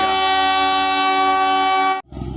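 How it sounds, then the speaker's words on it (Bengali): A loud, sustained toy train horn blares for about two seconds, then cuts off, leaving rumbling rail noise, on a mountain railway near Rongtong, Darjeeling hills. "তোমরা নিশ্চয়ই আওয়াজ পাচ্ছ টয় ট্রেনের"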